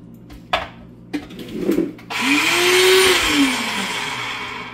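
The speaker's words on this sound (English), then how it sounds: "Food processor is almost done." A food processor blending chickpea guacamole gives a few clicks and clatters, then starts up into a loud, steady whirring hum with a motor pitch that rises and falls, running on alone close by.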